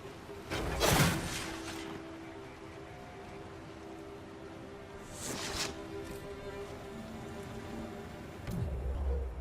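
Rain falls in the video game Dragon Age: Inquisition as a soft, steady hiss, fairly faint, with a few brief louder bursts scattered through it.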